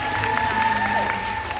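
Audience applause at an exclusive film screening and interview event, a steady crowd clapping throughout with some tonal feedback or music lines underneath, moderately loud and continuous.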